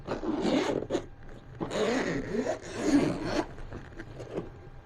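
A zipper rasps open on the soft-material carrying bag of a Hohem iSteady M6 gimbal, in about three close, scratchy pulls with short pauses between them.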